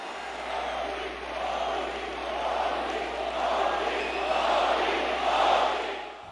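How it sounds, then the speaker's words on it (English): A large crowd of 19,000 at a 2014 rally in the US for Prime Minister Modi, a continuous roar of voices that swells and chants his name, loud and steady throughout. "The crowd waved and chanted his name."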